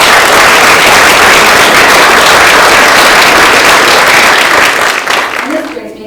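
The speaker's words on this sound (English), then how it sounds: "I like to ask you to give yourselves, our OGT community, a round of applause." Loud, sustained audience applause fills a theatre crowd at the opening of a new screening room and media lab, a dense wash of clapping that fades toward the end.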